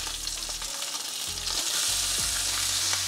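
Trout fillets frying in a pan give a steady, close sizzle with low scraping and shifting sounds, and no voices over it.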